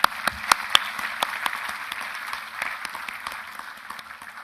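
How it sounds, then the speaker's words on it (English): Applause from the audience at a graduation convocation for an outgoing MBA class. It opens with a few sharp, separate claps that quickly build into a steady wash of clapping, which gradually softens. "and big applause"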